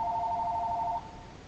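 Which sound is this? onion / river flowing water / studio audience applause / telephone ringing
telephone ringing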